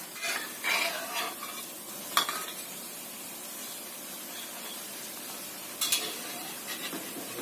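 Soft, steady sizzling of peanut crackers frying in hot oil, with a few light clinks and scrapes of a utensil in the pan.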